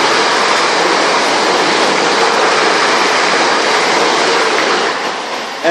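A train rushes through a London station, a loud, steady roar of wheels and rushing air sustained close by, easing slightly just before the end.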